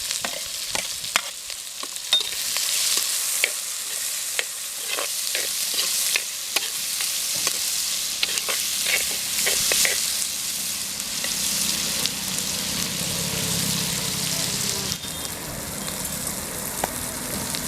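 Onion and garlic frying in a pan for a village-style snake gourd dish, producing a continuous close sizzle with scattered crackles and scraping stirs, no voices present.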